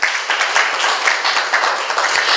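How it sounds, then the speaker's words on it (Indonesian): A church congregation claps together during a worship service, making a dense, steady wash of applause that fills the room with no voices over it. "Berikan tepuk tangan untuk Tuhan Yesus."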